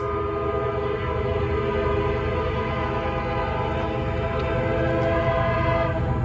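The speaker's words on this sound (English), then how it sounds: "Somebody's laying on the horn." A CSX freight train's horn blows long and sustained, close and loud, with a steady chord held over the rumble of the passing locomotive and cars, with no talk.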